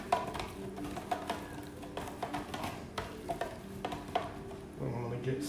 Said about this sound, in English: get some olive oil on here, get it all coated up nicely.